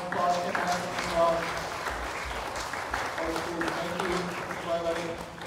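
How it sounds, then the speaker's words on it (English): An audience at a community meeting gives a round of applause, a steady mid-level wash of clapping with voices mixed in throughout. "please give them a round of applause"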